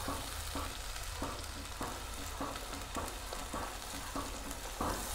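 Masala paste for a Punjabi dhaba-style chicken gravy fries over high flame in a pan, a continuous loud sizzle broken by regular scraping strokes as it is stirred, with no voices.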